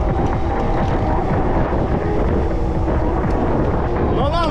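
Strong wind buffets the microphone during a summer road trip through Crimese coastal hills, a loud, continuous roar with low rumbling and a faint rising tone near the end.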